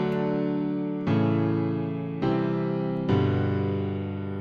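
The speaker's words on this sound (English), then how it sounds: "the first thing I did was to find my chords, and the chord sounds like this" Tropical pop house synth chords built in FL Studio: four bright, sustained chords play back to back, each held about a second, with clear steps between them and no other sounds.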